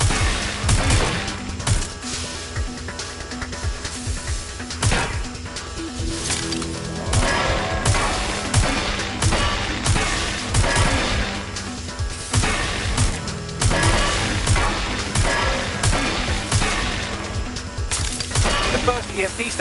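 Rapid bursts of automatic gunfire and heavy impacts in the Watch Dogs video game, loud sustained volleys with brief pauses and booming hits, mixed with game sound effects and music across the whole stretch.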